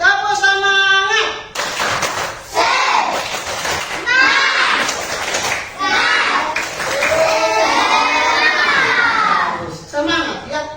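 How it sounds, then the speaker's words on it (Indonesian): Schoolchildren in a classroom perform a rhythmic group clap together, bursts of patterned clapping mixed with chanted voices and a teacher speaking in between. "Tepuk semangat."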